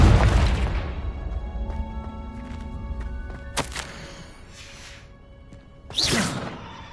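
A Confringo spell blast in Hogwarts Legacy on PS5: a loud booming explosion that fades over a second, then a sharp crack, a softer whoosh and another burst, set against a ringing game soundscape.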